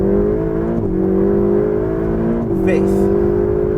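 A Ferrari 488 GTB engine revs smoothly and loudly toward the rev limiter, pitch climbing in two pulls with a brief dip between them, under someone talking.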